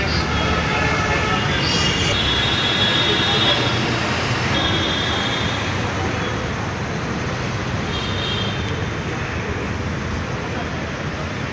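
A steady, loud rumbling roar of a metro train running on rails from Challaghatta metro station, with occasional faint high whines and no pauses.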